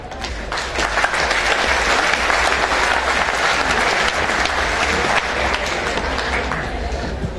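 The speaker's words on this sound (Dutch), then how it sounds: "Mag ik ze naar voren onder een applaus?" Sustained audience applause at an evening harvest festival in Salland as the harvest queen Gerda van der Beek and her ladies-in-waiting come forward; dense, steady clapping from a large crowd, fairly loud throughout.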